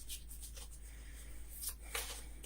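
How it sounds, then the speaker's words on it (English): Soft, close rustling and light slapping of tarot cards being shuffled, with brief brighter riffles, no voices. "as I shuffle and feel the cards, hear the cards, and breathe"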